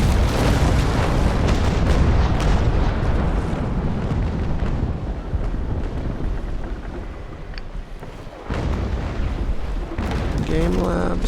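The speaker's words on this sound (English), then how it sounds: "Here, have a broadside." A ship's cannon broadside in the Naval Action game, with Snow-class ships, heavy booming blasts rolling together into a dense, continuous rumble that swells loud and sustained, easing briefly before another surge near the end.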